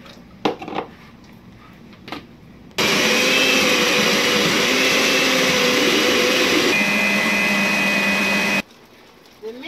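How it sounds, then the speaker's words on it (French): A Moulinex blender grinding peanuts runs loud and steady for about six seconds, its whirring pitch dropping slightly partway through, framed by a few clinks and knocks before and after. "J'écrase directement dans le moulinex où j'ai écrasé les condiments."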